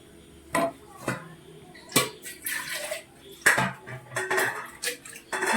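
Ground coconut paste goes into a pot of prawn curry and gets stirred, with several sharp clinks of a spoon against the pot and a few softer scraping knocks spread across the clip, close by and with no talk.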